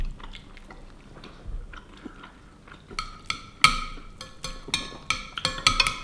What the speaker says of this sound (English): So like if I wanna eat the pork, wash it down with some makgeolli.